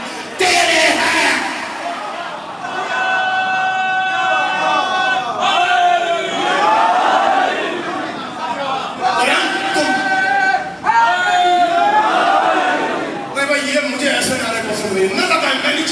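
A large majlis crowd at a Muharram gathering chants slogans in unison, with loud massed voices rising in repeated waves that fill the space continuously.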